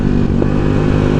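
Motorcycle on a road trip through Caramoan, Camarines Sur, a Kawasaki NS200 or Dominar 400 class bike, giving a steady loud engine drone with wind rush, close and continuous.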